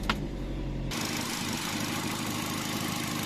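A Hyundai i10 automatic's engine idles steadily nearby, a smooth, even hum with a faint knock and no talking.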